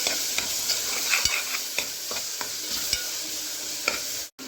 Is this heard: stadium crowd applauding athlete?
no